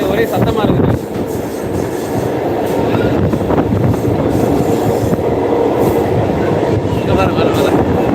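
Suburban train running between St Thomas Mount and Velachery, a loud, steady rumble of wheels and carriage noise heard from inside, with rattling and a faint high squeal throughout.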